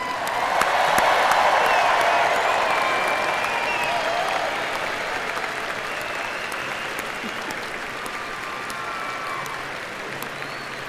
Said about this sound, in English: One last round of applause for all of our graduates.